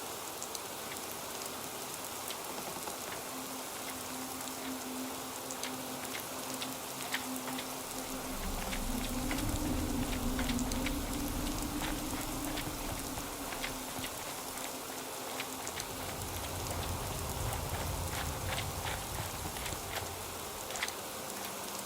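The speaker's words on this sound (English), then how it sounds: "This rain is gonna ruin my notes!" Steady rain falls in the Fallout 4 wasteland with a dense patter of drops on surfaces, a continuous close hiss and a low rumble swelling partway through.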